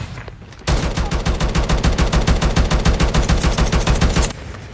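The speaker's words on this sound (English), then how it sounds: "Be advised, hostile sentry gun spotted." A hostile sentry gun in the mobile shooter Call of Duty Mobile fires one loud, continuous burst of rapid automatic shots that lasts about three and a half seconds, then stops abruptly.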